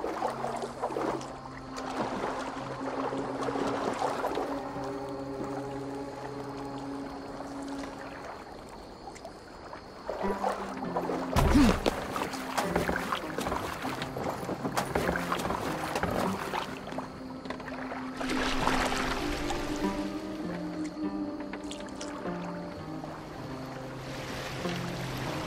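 Boat being rowed in Assassin's Creed Valhalla, with steady rhythmic oar strokes and water sloshing under tonal game music and ambient wind, continuing throughout with a louder surge midway.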